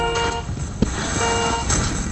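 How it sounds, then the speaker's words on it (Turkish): A car horn on a road vehicle sounds in steady sustained toots over a continuous engine rumble, fairly close and moderately loud, with a brief knock partway through and no speech. "Sizde korna sesi geç geliyor."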